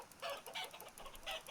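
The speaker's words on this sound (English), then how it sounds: "And don't think I forgot about the chickens." Chickens clucking close by in a short burst of soft, repeated clucks and murmurs, faint and alone with no talk.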